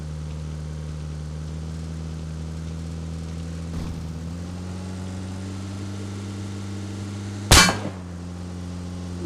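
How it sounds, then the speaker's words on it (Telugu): A car idles in BGMI with a steady engine drone, then takes damage: a faint knock partway through, followed by a single sharp, loud clang, after which the engine hum continues at a slightly lower pitch. "కారు డ్యామేజ్ అవుతుంది"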